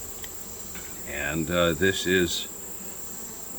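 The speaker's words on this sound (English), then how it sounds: "these are those bees." Honeybees from a colony cut out of a house roof buzz close by in a brief swelling drone lasting about a second, set against a faint steady background hiss.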